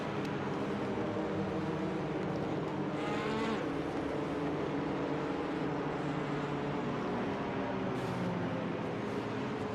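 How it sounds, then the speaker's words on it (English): Race cars leaving the pit lane during an iRacing Elantra championship round at Oulton Park, a steady, dense engine drone that holds at an even level throughout with no voices. "There's a bit going on in the background here with cars exiting the pit lane."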